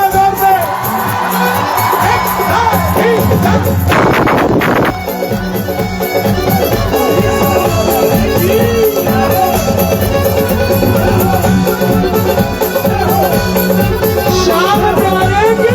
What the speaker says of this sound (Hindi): ताली बजा दो, एक बार शोर मचा दो जरा जोर से